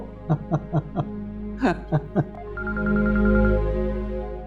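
A telephone is dialed with a quick run of short, evenly spaced key tones, followed by a sustained ringing tone.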